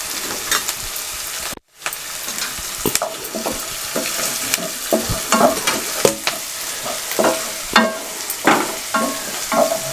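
Ginger garlic paste fries in oil with a loud, close sizzle and repeated scraping stirs against the pan, cut by a momentary silence early on; no voices.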